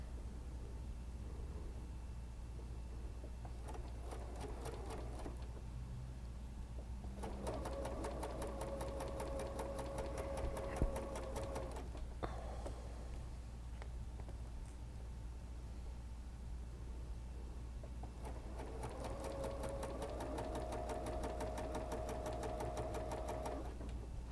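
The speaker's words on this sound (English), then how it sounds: "so that I can go ahead and sew the other side of that." A sewing machine stitches quilt block pieces in two long, steady runs of fast rhythmic whirring, separated by a short pause and low motor hum, all close and fairly quiet.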